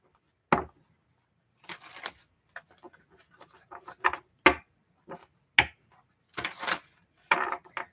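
Tarot cards are shuffled in sharp bursts of riffling and slapping, separated by short pauses, close and clear with no talking.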